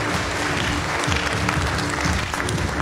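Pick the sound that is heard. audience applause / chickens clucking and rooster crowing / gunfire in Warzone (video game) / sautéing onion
audience applause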